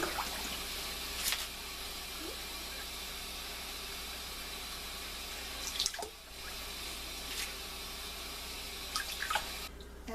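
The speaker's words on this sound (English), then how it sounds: "I'm going to get some cold water from the sink and wet that down." Cold water runs from a kitchen sink tap in a steady, close rushing stream, briefly dipping around the middle, while sushi is being rolled nearby.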